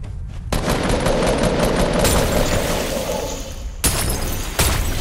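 Loud, dense automatic gunfire from a video game rattles almost without a break for about three seconds, then two sharp separate bursts follow, with no voices heard.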